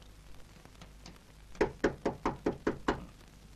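Seven sharp, evenly spaced knocks strike a door in quick succession, close and clear against a quiet room.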